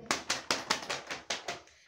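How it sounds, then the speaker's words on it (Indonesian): Applause in a classroom at an economics-education microteaching competition: a run of about eight sharp, evenly spaced claps, fairly soft, fading slightly toward the end, with no talking. "Mari kita berikan tepuk tangan."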